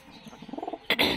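Sirazi pigeons at a small pigeon farm give a short run of soft, rhythmic coos close by, followed by a sudden loud fluttering burst.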